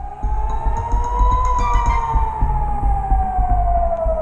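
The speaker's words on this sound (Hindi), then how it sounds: "तेल अवीव में हवाई हमलों के सायरन बजते ही" A loud air raid siren in Tel Aviv holds a long rising then slowly falling wailing tone, close and dominant over a low rumbling background.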